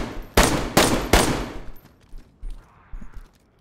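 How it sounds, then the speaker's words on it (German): In the DayZ video game, three loud, close gunshots fire in quick succession into a wall, each with a short echoing tail, followed by quieter ambient game noise. "Nur ein paar Schüsse reinfeuern."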